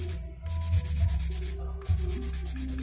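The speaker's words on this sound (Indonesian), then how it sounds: "kita menggunakan amplas dengan nomor grade yang kecil, yaitu untuk dengan nomor grade 600, yaitu amplas halus" Fine 600-grit sandpaper rubs across a surface that was already smoothed with coarse paper, part of prep work for painting. The scratchy sanding runs steadily and close throughout, with a few heavier strokes.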